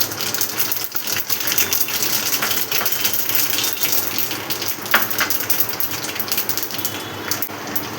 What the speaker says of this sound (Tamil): இந்த பக்கம் எண்ணெய் காஞ்சிடுத்து, கடுகு போட்டுக்கலாம்.